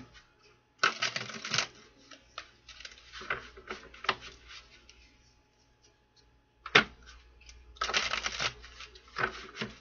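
Crisp bursts of riffling cards, two long shuffles with scattered taps and flicks between them, close and fairly quiet with no talking.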